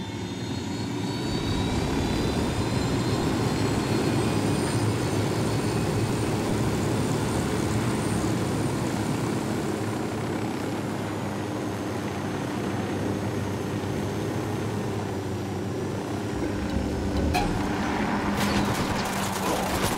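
An aircraft piloted in Ghost Recon Wildlands drones steadily with a constant engine roar and whine throughout, loud and close, with a few clanking effects near the end.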